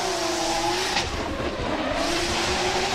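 Drift car engine revving hard during a run at a drifting event, a sustained loud roar with tire squeal and skidding throughout, no speech.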